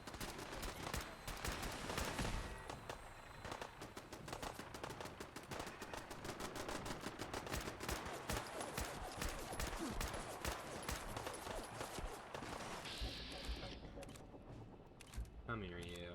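Video game gunfire, a dense and unbroken stream of rapid shots and bursts that goes on throughout, fairly faint, with voices talking over it.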